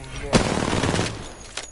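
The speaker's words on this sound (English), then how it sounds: "Shots fired at me." Rapid gunfire in a shooter video game, a dense burst of loud automatic shots with a sharp blast near the start and another toward the end, under a player's excited talk.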